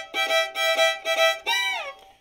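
Fiddle playing a Western Swing lick, a quick phrase of bowed notes in short bursts ending on a sliding, bending note, close and clear with no talk.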